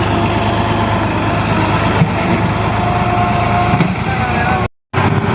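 A tractor pulling a brick trolley idles close by at a home construction site, its engine a steady, fairly loud rumble that drops out briefly near the end.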